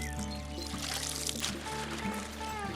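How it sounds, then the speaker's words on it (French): Herbal infusion is poured into a chickens' water drinker, a close, steady liquid pour with light splashing against a faint background hum and some birdlike chirps. "On va ajouter cette infusion à raison de 33 centilitres pour 10 litres d'eau dans l'abreuvoir."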